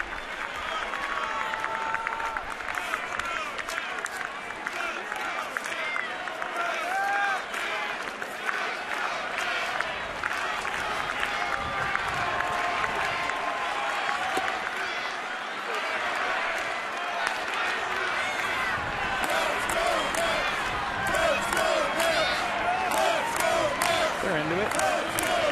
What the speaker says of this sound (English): Adult males chanting like kids, waiting for a win.